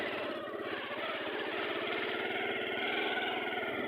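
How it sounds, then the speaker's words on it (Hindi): A motorcycle travels along a desert track in Cholistan, its engine holding a steady, even mid-range drone throughout with no gear changes, heard from the rider's position close to the machine. "ऐसा ऐसा मैं चला रहा हूँ मोटरसाइकिल।"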